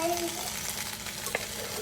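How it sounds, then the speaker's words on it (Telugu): Onions, cumin and dried chillies frying in a pan make a soft, brief sizzle with a light crackle, quiet and close, lasting under two seconds. "ఇట్లా ఆనియన్స్, జీలకర్ర, ఎండుమిర్చి అన్నీ వేసి ఇట్లా వేగినాక గుగ్గిళ్ళు వేయాలండి."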